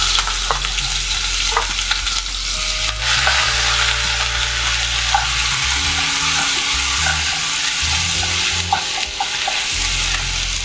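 Garlic and ginger sautéing in a pan with fennel seeds for Kerala kadala curry, a loud continuous sizzle broken by repeated stirring scrapes, no talking.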